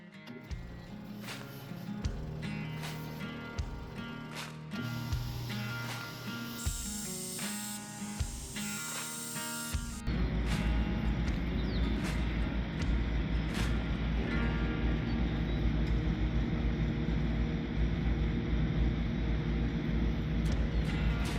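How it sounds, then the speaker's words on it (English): Bench grinder grinding a scrap steel dagger down to the tang, a loud continuous rough grinding roar that grows denser and steadier halfway through, with no talk. "now I'm just going to grind down to the tang"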